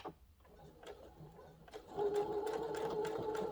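A sewing machine running a straight stitch through cotton fabric for a tote bag, starting with a few soft clicks and then settling into a steady, close, rapid whirring hum of stitching.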